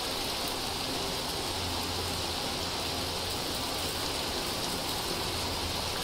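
Continuous hailstorm in the survival game Vintage Story, a broad, rushing patter of falling ice that holds at a constant loud level throughout, with a faint low hum underneath and no voices.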